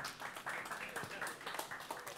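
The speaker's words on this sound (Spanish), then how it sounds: "Un aplauso también para el maestro." Faint, steady applause from a small group for a worker at a Bauker professional tool and machinery demonstration; dense, continuous clapping without a clear break.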